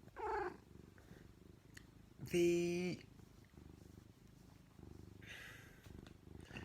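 A house cat calls out with a strong harmonic meow-like cry in the middle, plus shorter fainter vocal bursts near the start and end, heard over low room noise and a little speech.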